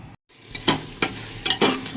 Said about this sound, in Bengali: তেলটা গরম হোক এই পেঁয়াজটা ছাড়বো আর এই ফোড়নটা ছাড়বো